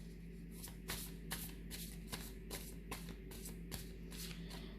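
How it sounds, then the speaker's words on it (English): Very thin playing cards are riffled in a steady run of crisp, rapid shuffles. Each shuffle brings a brief burst of fluttering snaps, recorded quietly at close range with no talking. "the cards are very, very thin, so it's a little bit hard to shuffle sometimes"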